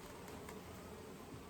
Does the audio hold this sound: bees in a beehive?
yes